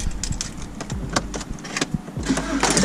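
A BMW 1 Series engine cranks and catches with a few uneven bursts, then settles into a steady low idle close by, with faint clicks and whirs around it.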